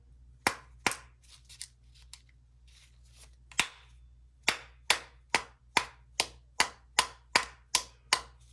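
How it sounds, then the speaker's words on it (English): Sharp knocks of a screwdriver handle striking a pin on a Singer 431 G sewing machine, a few scattered taps at first and then a quick, fairly even run of about nine crisp raps, close and with no talking. "So I'm just going to hit it with a screwdriver handle."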